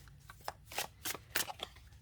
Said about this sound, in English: I'm going to shuffle these off camera